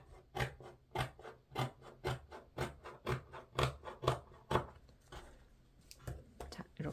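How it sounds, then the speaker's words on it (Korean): Scissors cut felt for the inner bag of a flower bag in a steady rhythm of rasping snips, about two per second. The strokes are close and quiet, with a short pause before the last few. "그 다음에 위에는 이제 필요 없으니까 잘라주겠습니다"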